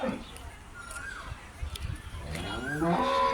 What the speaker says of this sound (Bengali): এখানে গরু পালা হয়